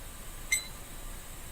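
A computer chimes once to confirm a WeChat QR code login, a single short, bright tone that stands out over a quiet background.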